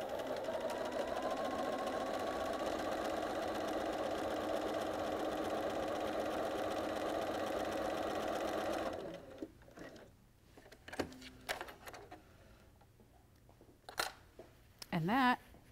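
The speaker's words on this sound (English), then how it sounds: "Just going to line up my fabric and sew a regular quarter inch seam." A sewing machine runs a regular quarter-inch seam through fabric, a steady whirring hum for about nine seconds that stops, followed by scattered handling clicks and rustles.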